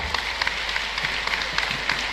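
Steady applause from a crowd at a Jain religious discourse, many hands clapping together at a moderate level, continuous with no voices over it.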